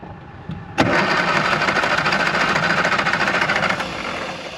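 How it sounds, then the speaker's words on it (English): A Morris Mini 850 engine cranks steadily without catching, apparently out of fuel, a loud continuous churning starter-and-engine drone close by that begins abruptly and runs for several seconds. "So I think we've just run out of fuel. Thing will not start."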